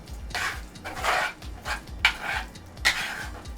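A spoon stirs cheese into beans in a pot, making soft scraping and sloshing strokes in irregular bursts, with a couple of sharper clinks against the pot.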